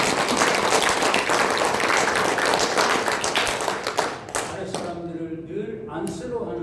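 Applause from an executive workshop audience during a lecture, dense sustained clapping that thins out toward the end into a few scattered claps, loud and close, with a voice briefly heard under it.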